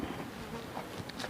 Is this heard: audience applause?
no